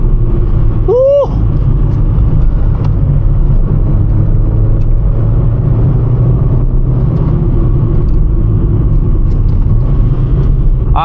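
Small car driving along a country lane, with a steady loud engine rumble and road noise throughout and a brief whistling or squealing sound near the start.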